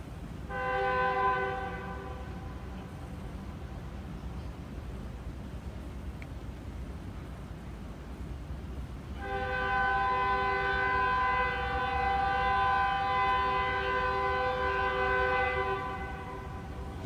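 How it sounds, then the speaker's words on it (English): A train passing under a bridge in downtown Jonesboro, its horn sounding in two long blasts separated by a stretch of low rumbling rail noise, moderately distant and alone with no talking. "You're hearing the sound of a train coming through, by the way."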